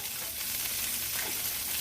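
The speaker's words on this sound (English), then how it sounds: "You hear it sizzling?" Steady, close-up sizzling and crackling of burgers searing in hot olive oil, a dense hiss with no talking.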